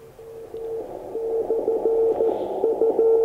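A steady tone from a Dutch radio beacon pulses on and off in a keyed Morse-like pattern, heard through hissy radio static on an Elecraft K3 receiver on the 2 m band.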